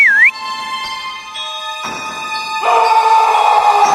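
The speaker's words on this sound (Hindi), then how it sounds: "शॉन दौड़कर उस घर की तरफ जाता है और सीटी बजाकर सभी कंकाल सेना को अपनी तरफ बुलाता है।" Whistle blown in a horror cartoon to call a skeleton army: a brief bending whistle at the start, followed by sustained tonal cartoon sound effects and music, loud and close, with no talking.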